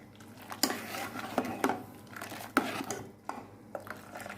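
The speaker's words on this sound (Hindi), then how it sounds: "मिक्स कर लेना है गुड़ को अच्छी तरह से।" A spoon stirs jaggery into milky tea in a metal pot, making irregular close clinks and scrapes against the pot with soft sloshing between them.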